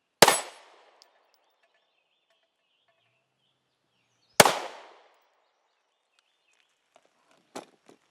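Two loud, sharp gunshots from a Smith & Wesson Shield 9mm pistol, spaced about four seconds apart with short echoing tails, followed by faint clatter.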